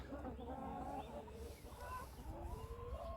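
Chickens in Yaremche cluck and murmur in a low, continuous chatter, several birds close by with overlapping calls and a soft background hum.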